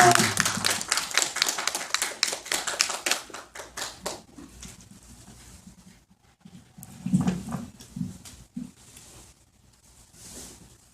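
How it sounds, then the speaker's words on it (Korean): An audience at a Korean community centre's art history class in LA claps to welcome the lecturer, a dense burst of applause that thins out after about four seconds into scattered claps and quieter room noise. "여러분 큰 박수로 환영해 주시기 바랍니다"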